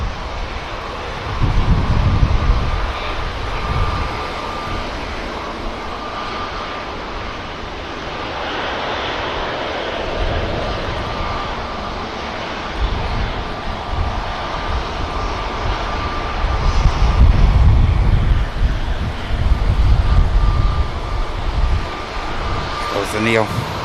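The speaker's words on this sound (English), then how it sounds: "Back to Cairo goes the Egypt Air." An Egypt Air airliner's engines roar as it departs Manchester Airport, a broad, rumbling, wind-like wash that swells and fades over nearly half a minute, with a steady tone running underneath.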